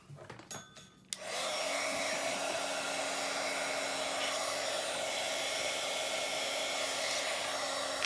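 A hair dryer clicks on after a brief bit of handling noise, then blows loudly and steadily up close over paper being dried, with a constant whooshing roar and no talking.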